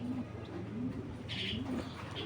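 Racing pigeons coo close by, with several low, soft rolling calls repeating across the stretch and a brief higher chirp in the middle, all without speech.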